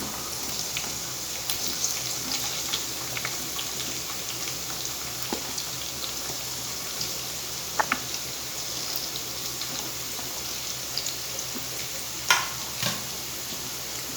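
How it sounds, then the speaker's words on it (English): Onion sautéing in a pan for Indo-Chinese chicken Hakka noodles makes a soft, continuous sizzle, broken by occasional clicks and scrapes of stirring. The pan sounds close and moderately quiet. "Now we'll add the onion."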